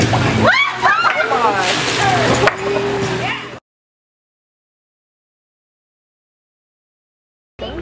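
Water splashes and sloshes in a hot tub, close and steady, with voices over it before it cuts to silence.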